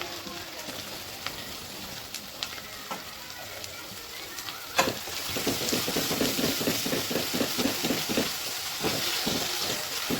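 Green chillies, coriander and onion fry in a pan for pav bhaji, a steady crackling sizzle with bursts of rhythmic stirring scrapes in the second half.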